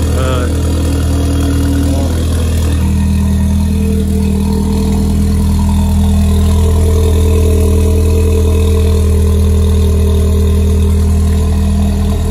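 Volkswagen Golf 6 idling with its aftermarket exhaust valve open, a loud, steady low rumble close by that holds even throughout, with a voice speaking briefly over it.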